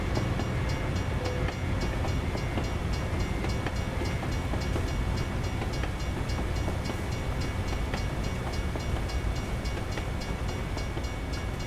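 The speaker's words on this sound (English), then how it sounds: "That's a reasonably long train" A long double-stack freight train rolls past in a trucking video game, a steady loud rumble of wagons with rhythmic clickety-clack wheel beats continuing throughout.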